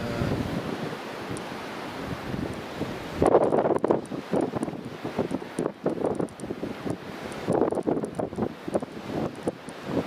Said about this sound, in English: It's very, very gusty at the moment.